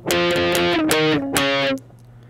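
Distorted electric guitar plays a short riff in octaves, several plucked notes in quick succession, loud and close, ending on a held note that stops abruptly.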